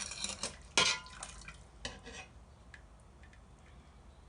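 Chicken wings being lifted out of a cooking pot, with a few sharp clinks of utensil against metal early on, then quieter scattered taps and faint kitchen noise, close and fairly soft.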